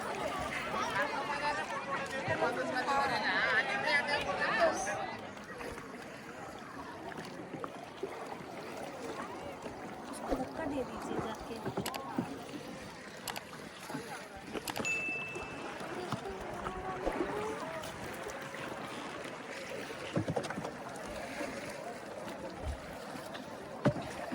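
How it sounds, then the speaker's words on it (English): A coracle ride at Talakadu spins fast on the water, with a continuous wash of water and boat movement under lively chatter and shouts from the riders. "they're spinning this coracle fast now, and people are enjoying it."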